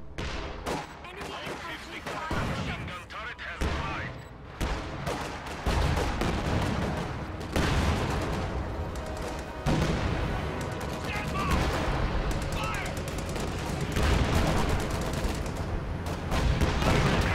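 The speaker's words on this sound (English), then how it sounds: "Clearly the shots cannot penetrate and they just smash into the concrete structure" In a video game battle, gunfire smashes into a concrete structure without penetrating it: rapid, overlapping bursts of shots and impacts, loud and continuous with dense rattling volleys.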